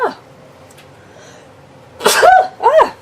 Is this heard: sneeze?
yes